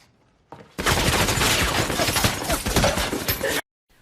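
Gunfire in a gunfight from the film American Sniper, a sustained loud, dense fusillade of overlapping shots and bursts lasting about three seconds, starting and stopping abruptly.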